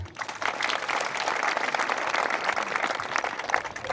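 A live audience applauds, with dense, steady clapping from many hands that holds at an even loudness throughout and has no voices over it.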